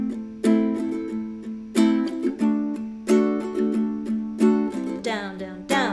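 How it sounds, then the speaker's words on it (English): Rock strumming pattern played on a stringed instrument, a bright chord strummed in a steady repeating rhythm of accented downstrokes and lighter upstrokes, close and clear with no talking. "With the rock strum, you're fitting in a lot more strumming"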